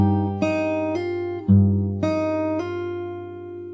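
Fingerstyle acoustic guitar picking part of a song very slowly, five or six clear plucked notes spaced out over a sustained low bass note, close and alone.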